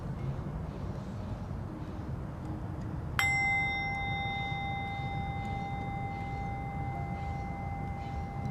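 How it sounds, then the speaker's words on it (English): A meditation bell for a yoga session strikes once with a bright, clear ding, then rings on with a long, steady tone that slowly fades over a quiet background. "I'll ring the sound of the bell, and by the time the bell stops ringing"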